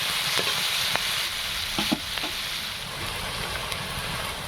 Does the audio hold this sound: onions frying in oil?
yes